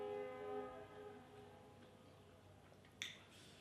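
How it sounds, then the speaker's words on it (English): A vehicle horn blares with a sustained, steady tone from nearby, fading out, followed by a brief sharp click. "Sorry about the honking."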